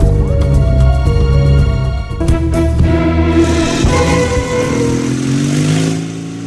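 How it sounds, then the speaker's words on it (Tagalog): A motorcycle engine accelerates loudly and close up, its rough, clattery note climbing and surging over several seconds. "Pakusgi ang pagpadagan ni imong motor,"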